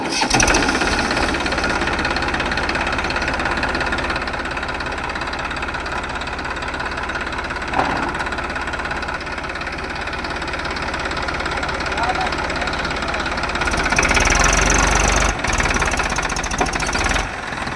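A tractor engine runs throughout with a rough, knocking diesel chug that holds steady and briefly swells louder toward the end, with people talking over it.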